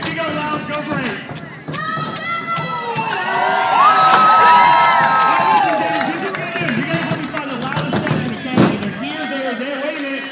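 A loud crowd of Atlanta Braves fans at a rally swells into sustained cheering and shouting, with whistles and scattered claps, building to a peak mid-clip and then easing back into noisy chatter.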